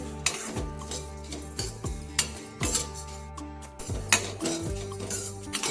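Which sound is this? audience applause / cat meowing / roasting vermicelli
roasting vermicelli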